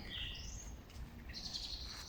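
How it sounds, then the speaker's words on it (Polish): Birds sing in a windless spring forest, with a few faint high chirps and whistled phrases over a soft, hushed background. "Cudowne ptaki."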